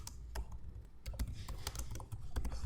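Rapid typing on a computer keyboard while entering check details into Tally Prime accounting software, with irregular close clicks and short bursts of keystrokes throughout.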